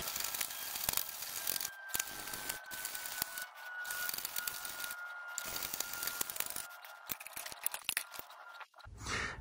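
Scissors are drawn across a sharpening stone in repeated rasping strokes, each gritty scrape followed by a short pause, close and moderately quiet with a faint metallic ring at times.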